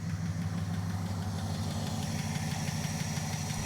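An idling engine in a garage runs steadily and close, a continuous low rumble with a fast repetitive ticking or knocking rhythm layered over it throughout.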